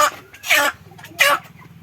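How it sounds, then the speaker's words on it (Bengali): Chicken picked out from a poultry flock during capture, giving a few short squawking clucks in quick bursts, close and moderately loud with faint background sound. "একটা মোরগ আছে"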